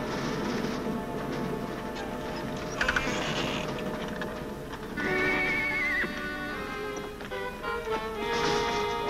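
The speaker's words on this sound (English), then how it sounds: "let's put the horses in the back and take a quick look around anyway" Horses neigh and whinny repeatedly, with shrill rising and falling calls at close range, over a soft clip-clop of hooves in an old Western television scene, with no talk.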